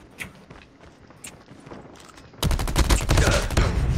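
Rapid automatic gunfire from a Call of Duty Mobile free-for-all match bursts in loud and dense after a quieter stretch of scattered shots and footsteps, continuing as a sustained volley to the end.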